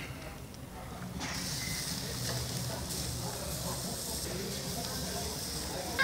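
Beer brat sausages searing on a grill, a steady hissing sizzle that swells after a moment and continues at low level, with a voice talking over it.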